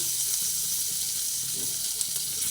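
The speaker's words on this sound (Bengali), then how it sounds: "সেই এক চামচ মতো আদা দিলাম একসঙ্গে ভেজে নিচ্ছি" Ginger frying in a pan over a low gas flame for ghugni, giving a steady close sizzle and hiss throughout with no pauses.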